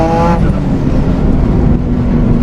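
A turbocharged car pulls hard in third gear at about three-quarter throttle, its engine roaring loud and close as the turbo spools up almost instantly, a steady dense drone with a whine riding over it.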